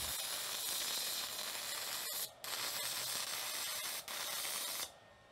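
Stick welding with a 1/16 inch rod on a TEMU welder at setting 2 gives a steady, loud crackling sizzle that runs almost without a break, with two short dips where the arc drops out, then stops abruptly near the end.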